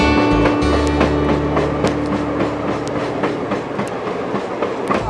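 A passenger train car in Arkansas rolling along curvy tracks, a loud steady rumble with a rhythmic clickety-clack of wheels and occasional sharp metallic squeals and clanks, heard from inside the car.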